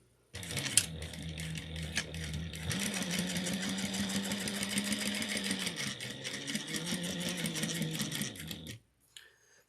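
Sewing machine stitching a zippered ID case, running steadily at close range with a steady rapid needle clatter, briefly shifting pace as the seam turns corners, then stopping near the end.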